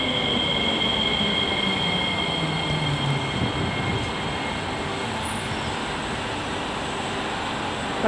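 An MRT metro train rumbles steadily along the track, with a constant rolling roar, faint high whine and occasional squeal, no voices.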